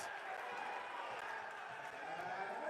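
A crowd at a JSBL championship basketball game reacts to an out-of-bounds play, a sustained, fairly distant murmur and shouting that fills the gym, with a commentator's voice running over it.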